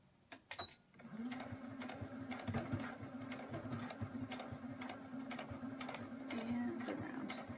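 A sewing machine stitches slowly forward with a steady low mechanical hum and faint repeated ticking, fairly quiet and continuous after a few small clicks at the start.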